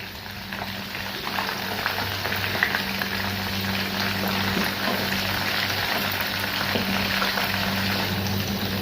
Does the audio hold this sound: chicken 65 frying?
yes